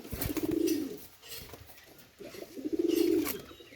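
Pakistani teddy pigeons coo in two rounded, rising-and-falling phrases, close by and fairly loud, with faint rustling between calls.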